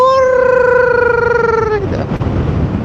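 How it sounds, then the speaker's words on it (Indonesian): A high whining tone with stacked harmonics from a Yamaha Mio M3 scooter gearbox holds steady and then slides slightly downward before fading into mechanical rumble, close and loud. "gearboxnya itu cepat banget nangis."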